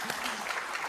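Applause from an audience at an investment forum in Perth, Australia, welcoming Ambassador Alfred of Kenya: a steady, dense wash of many hands clapping at moderate distance for about a second.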